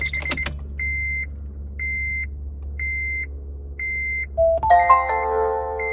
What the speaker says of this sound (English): So it just gives like a little chime, you know, in like Japanese accent or like in Japanese.